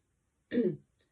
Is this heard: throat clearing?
yes